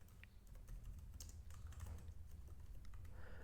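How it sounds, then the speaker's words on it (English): A name is typed on a computer keyboard, quick light key clicks in short irregular runs, close but faint over a low room hum. "on the name I'm going to type the name of my contractor"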